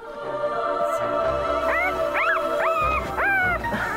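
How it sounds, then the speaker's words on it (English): Staff cross puppies whimper and yip in a series of rising, squeaky cries, several close together near the middle and end, over a steady background hum. "they're the very same Staffy Cross puppies the foster carer Beck took on"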